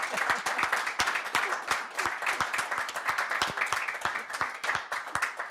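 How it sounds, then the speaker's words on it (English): Audience applause after a human rights education talk, with fairly close individual claps giving a dense, uneven patter that stays steady throughout. "I think we need to give both Dr. Osler and Dr. Portrie a round of applause."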